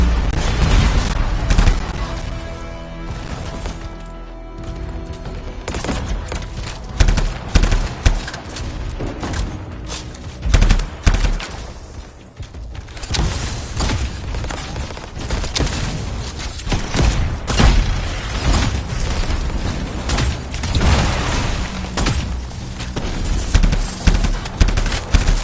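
A very large gun blasting in Anthem, rapid continuous heavy fire with booming impacts and explosions, loud and dense for the whole stretch with no pauses and no voices.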